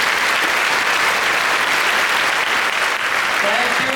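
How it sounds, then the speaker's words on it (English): Sustained, dense applause from a large audience at a graduation ceremony, steady and loud throughout with no breaks. "Let's give them another round of applause."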